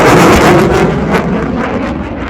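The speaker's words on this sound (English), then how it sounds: "the Royal Canadian Air Force's CF-18 Hornet" A Royal Canadian Air Force CF-18 Hornet jet roars past at an airshow, a loud, continuous broadband rush of engine noise that swells and slowly fades.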